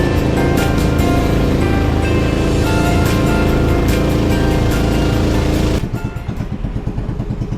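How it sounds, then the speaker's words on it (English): A small boat motoring across a river toward Tham Phra Waterfall in Bueng Kan, Thailand, its engine drone mixed with rushing water and hull splash, loud and continuous, easing to a lighter rumbling chop near the end. "The only way to get to Tham Phra Waterfall is by the boat, taking around 5 minutes to arrive to the destination."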